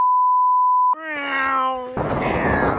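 A voice imitates a cat's meow in one drawn-out, nasal, rising-then-falling call, close and loud, which comes right after a steady electronic beep and is then cut off by a burst of broadband noise.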